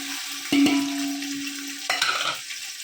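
Onion-tomato puree for chicken biryani sizzles in a pan as a spoon scrapes through it, two short stirring strokes over a steady low frying hiss.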